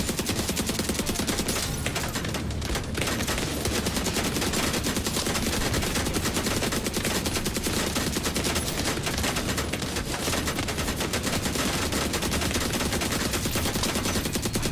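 Dense, continuous gunfire fills the scene in The Division 2, rapid overlapping bursts and automatic fire sustained at high loudness throughout with no pauses.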